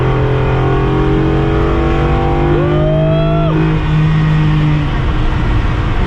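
A loud pickup truck engine drones steadily and rises in pitch as it accelerates, with a brief shout of excitement partway through.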